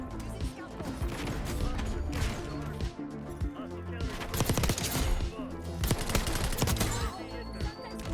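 Dense, loud Black Ops 6 firefight with grenade blasts and rapid gunfire crashing throughout, layered over continuous game sound and some voice.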